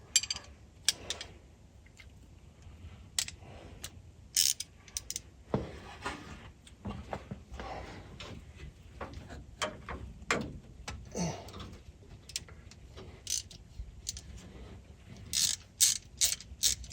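Ratchet loosening bolts in a crisscross pattern on an old Chevrolet C10 truck, with bursts of rapid metallic clicking at close range separated by short pauses, quiet and with no talk.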